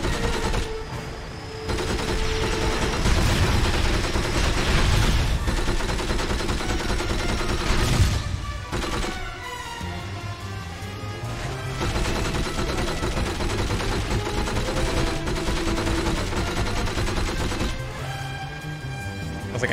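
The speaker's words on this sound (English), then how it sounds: "Go back to the machine gun. Guess I know the bullets will go straight." Vehicle-mounted machine gun firing in the PS2 game From Russia With Love, inside a tunnel: a steady, loud stream of rapid gunfire that runs almost continuously, with a brief break and a heavier crash partway through, over game music.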